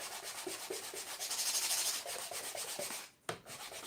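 Sandpaper rubs rhythmically over a miniature 1/12-scale beech wood box, quick back-and-forth strokes up close, briefly pausing near the end before resuming.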